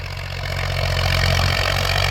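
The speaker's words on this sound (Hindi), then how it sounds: "यूँ जो ज़्यादा आरपीएम पे चल रहा, लोड ज़्यादा है ट्रैक्टर के ऊपर" Massey Ferguson 35 tractor engine running steadily at high RPM under heavy load while driving a rotavator, a loud continuous diesel drone with strong low harmonics that swells slightly and holds, with no voices.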